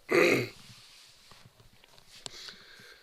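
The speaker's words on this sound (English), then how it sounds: "still got this bit of a cough" One short, rough cough or throat-clearing close up, then quiet rustling and faint movement noises.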